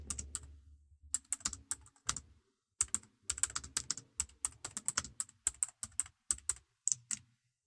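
Someone types a Facebook post on a computer keyboard, with crisp close keystrokes coming in quick irregular bursts separated by short pauses, heard alone.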